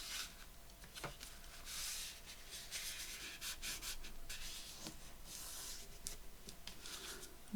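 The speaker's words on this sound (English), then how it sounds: "Give that a good burnish." A folded paper envelope edge being burnished firmly by hand, giving a soft, continuous rubbing and scraping sound made of repeated strokes, close up and fairly quiet, with no voices.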